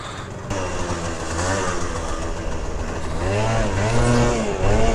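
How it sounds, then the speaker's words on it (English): A stock-exhaust Honda Elite 50cc scooter out for a ride, its small engine whining and climbing in pitch as it revs up toward the end. The sound is close and fairly loud, with no talk. "we're gonna go take this thing for a little spin and get some stock wheelie action on a 50cc Elite"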